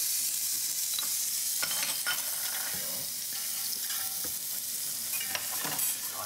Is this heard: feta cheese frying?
yes